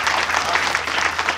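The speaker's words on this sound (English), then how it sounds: "Everyone give a big round of applause for Wes Chapman." A promotional speaking event audience applauds to welcome the speaker Wes Chapman, a dense, even wash of clapping from a sizeable crowd that stays steady throughout.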